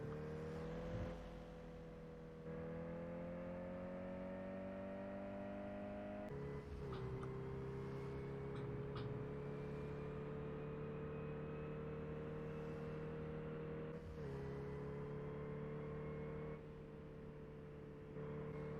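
Car engine in the driving game Drive 21, a steady droning hum during free driving that holds its pitch and climbs slightly, with brief gear-shift dips and resets, alone without any talk.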